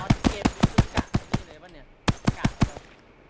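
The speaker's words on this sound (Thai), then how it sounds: "ยิงไปรวมๆสามร้อยสี่ร้อยนัดแล้วนะ" Rapid bursts of gunfire hammer at a boss in the shooter game OutlawZ: a steady run of sharp, evenly spaced shots, a brief pause, then another fast volley, loud and close.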